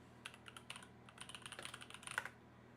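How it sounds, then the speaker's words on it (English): Fingers type quickly on a computer keyboard, a quiet, close run of uneven clicks and taps that grows busier toward the end, with no voices. "Can you hear my typing when I'm typing?"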